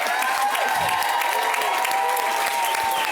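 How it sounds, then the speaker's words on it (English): A conference audience applauding a panel at a justice solidarity event, dense continuous clapping with some cheering and whoops, loud and sustained throughout. "Let them hear you cheering all the way to Alaska."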